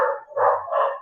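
A dog barks and howls in a few drawn-out, voiced bursts across about a second, fairly close and loud, with no talk over it.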